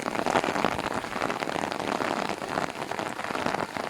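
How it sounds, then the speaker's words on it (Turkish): Steady heavy April rain patters densely on surfaces, a continuous close hiss of drops with no voices. "bugün bayağı bir yoğun bir şekilde yağıyor. Nisan yağmurları bütün canlılara faydalı."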